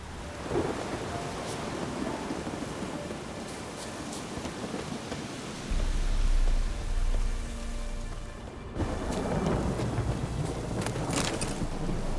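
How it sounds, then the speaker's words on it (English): A thunderstorm in the video game The Witcher 3: Wild Hunt brings steady rain hiss with low rolling thunder rumbles that swell midway, then a fresh burst of heavier rain and crackling thunder near the end. "The storm, damn it."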